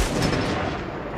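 A Predator missile strike in the multiplayer mode of the video game Call of Duty Mobile, a loud, sustained rumbling blast that fills the whole moment with heavy, dense boom and roar.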